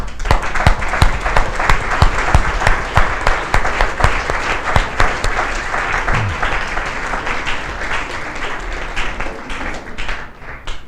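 A church congregation applauds during a service, with loud, sustained clapping from many hands and distinct sharp claps standing out. It carries on for about ten seconds and thins slightly toward the end, with almost no talk.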